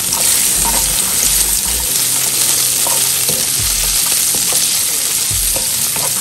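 Onions fry with salt in a pan for veg kofta curry, crackling in a loud, continuous sizzle up close, with repeated low thumps and scrapes from stirring and no voices.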